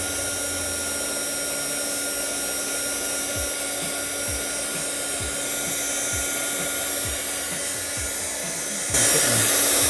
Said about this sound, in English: So now that those are done, we're just gonna use a heat gun to seal these.